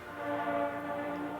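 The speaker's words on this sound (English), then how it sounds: "or these sounds from the CS80 sample" Sample of a Yamaha CS80 synthesizer: a sustained, dense tonal drone with stacked steady harmonics, like a horn or whistle chord, holding evenly at moderate loudness with no voices.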